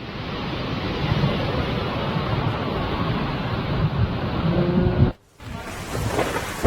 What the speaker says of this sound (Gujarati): રાજકોટમાં અતિ ભારે વરસાદ વરસ્યો છે